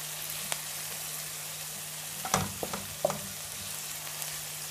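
Garlic and ginger fry in a pan with a soft, constant sizzle, broken by a few sharp scrapes and clinks of stirring near the middle.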